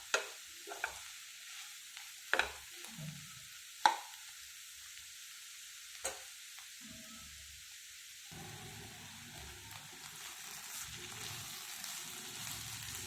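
Beans curry being stirred in a pan over a medium flame, a few sharp scraping knocks of the spoon over a soft steady sizzle that continues alone afterward.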